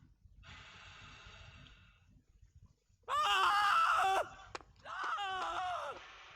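A character in the video game Legacy of Kain: Blood Omen 2 lets out loud, drawn-out screams and groans, two strong bursts after a quieter stretch of background game noise.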